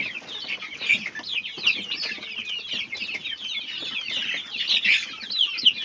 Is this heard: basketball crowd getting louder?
no